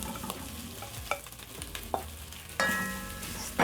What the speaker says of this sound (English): Once the onions are browned, I'm going to add back my meat.